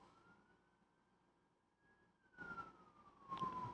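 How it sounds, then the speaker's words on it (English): A distant emergency siren wails in a slow rising and falling tone, faint at first, with some rumbling background noise building up under it toward the end. "Some sirens going off."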